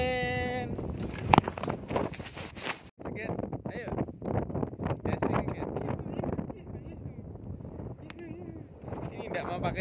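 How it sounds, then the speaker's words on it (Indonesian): Strong coastal wind buffets the microphone at a harbor where salt water enters a lagoon, a constant rough roar running under close conversation. "ini anginnya kayak gini"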